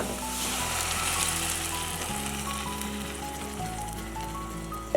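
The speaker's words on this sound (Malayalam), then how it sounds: "അടിച്ചു വെച്ചേക്കുന്ന മോര് ഇനി ഇതിലോട്ട് ഒഴിച്ചു കൊടുക്കാം കേട്ടോ" Whisked buttermilk goes into a hot pan for a sour, spicy moru curry with no coconut, giving a steady close sizzle and frying hiss that carries on throughout with no one talking.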